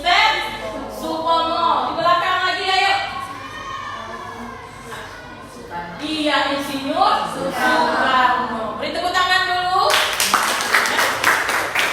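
Schoolchildren in a classroom clapping hands together in a short burst of rhythmic claps near the end, following excited children's voices and a teacher talking.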